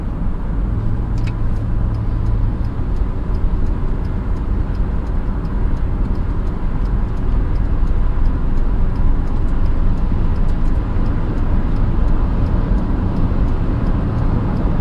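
A 2002 Honda Odyssey minivan on a test drive gives a steady, loud low road and engine rumble from inside the cabin, continuous throughout with no talking.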